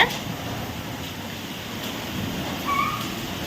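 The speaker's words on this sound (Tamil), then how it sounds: "இந்த காற்று இந்த மழையை அப்படியே கொண்டு போகுது அவ்வளோ காற்று" Strong wind drives rain through a garden, a steady broad rushing roar that swells slightly near the end, with no talk over it.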